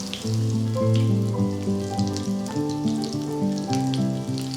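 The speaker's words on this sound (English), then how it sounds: "Give the cabbage a stir, and of course cabbage cooks quite quickly." Cabbage cooking in a casserole pot over an outdoor bonfire for a sausage casserole, a loud close sizzle and bubbling hiss with a shifting, tonal rumble running through it, no speech.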